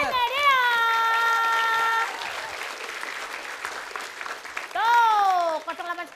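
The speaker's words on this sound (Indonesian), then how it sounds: "Tepuk tangan sekali lagi untuk para pemenang." Studio audience at an Indonesian TV quiz show applauds the SMS quiz winners, a steady wash of clapping and crowd noise sitting between bright electronic jingle stings at the start and end.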